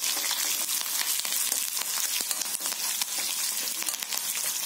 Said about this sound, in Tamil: பச்சை மிளகாய் நல்லா வதங்கட்டும் அப்போ நல்லா வாசனை நல்லா எண்ணெயில் ஏறும்